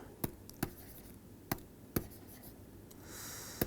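Chalk or marker strokes on a board during a physics lecture on scalar field theory: five sharp, separate taps and scrapes spread irregularly across a few seconds, close and fairly clear over a quiet room hum, with no talking.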